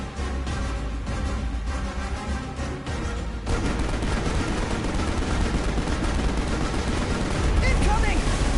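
Rapid gunfire from Prompto's gun in Final Fantasy XV, loud and dense bursts that swell after a few seconds into heavier continuous shooting, with game effects and voices mixed underneath.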